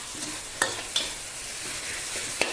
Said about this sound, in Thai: ก็จะมีพริกกระเทียมรากผักชี ติดไฟค่ะ ใช้ไฟอ่อน ผัด